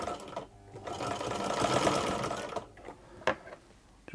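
Singer sewing machine fitted with a No. 86662/86718-type buttonhole attachment, set to a short stitch length, runs in a steady close whirring burst for about two and a half seconds, followed by a few light clicks and a brief mechanical tap.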